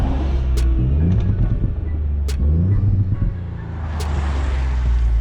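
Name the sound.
car engine revving on a Scottish highland road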